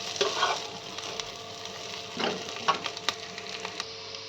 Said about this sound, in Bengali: পেঁয়াজগুলো ভালোভাবে ফ্রাই করে নেব